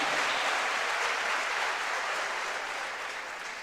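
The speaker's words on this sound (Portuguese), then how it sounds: "Se você crê, dê uma salva de palmas para Jesus." Applause fills a church, a broad wash of many hands clapping at once, loud and continuous before fading slightly toward the end.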